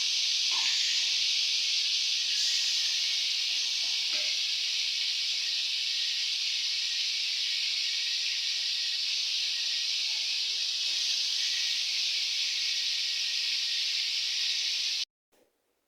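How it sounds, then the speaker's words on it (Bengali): Silver carp pieces frying in hot oil in a pan give a steady, close, even sizzling hiss that runs unbroken for about fifteen seconds, then stops abruptly. "এক সাইডে কিন্তু আমি মাছ ভাজতে দিয়ে"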